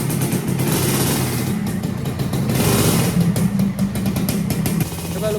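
A two-stroke Suzuki Satria motorcycle engine, a week into a trip with a faulty fault light, revs loudly and close for several seconds, its raspy roar rising and falling steadily with no speech.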